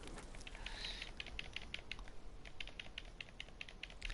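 Rapid, quiet clicking noises from the Conan Exiles video game patter in an irregular stream, faint and close, with no voices over them.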